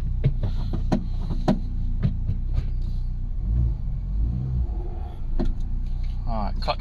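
Steady engine rumble from a cheap Mini car being driven, joined by scattered clicks and knocks from the cabin, with a voice talking over the drone.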